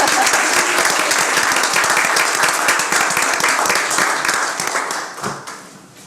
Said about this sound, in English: one more round of applause just because it's so awesome